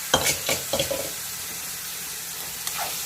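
Onions and lamb lung stirred in a hot pan, a few scraping stirs in the first second over a steady low sizzle, then mostly quiet frying with one more clink near the end.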